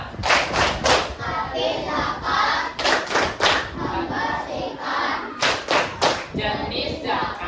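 An Islamic religious education class claps together in the patterned 'tepuk zakat' rhythm, sharp bursts of clustered hand claps separated by brief pauses, repeated several times at close range.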